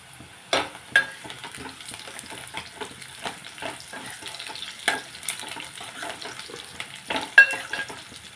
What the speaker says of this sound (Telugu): తాలింపు వేసేసుకున్నాం.